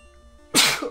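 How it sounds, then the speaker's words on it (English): A single sharp sneeze bursts out suddenly, close and loud, after a quiet moment with faint background hum. "I'm gonna sneeze."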